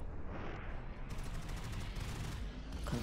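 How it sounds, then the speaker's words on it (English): Machine gun emplacement firing in the base-defense game MarZ, a continuous dense rattle of rapid shots layered with booming impacts, loud and steady throughout. "place a machine gun over there as well"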